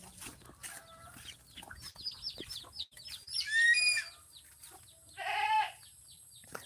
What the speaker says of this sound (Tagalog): Nagugutom na yung alaga kong kambing, kaya siging ganyan mga kasinag, sige ang huni.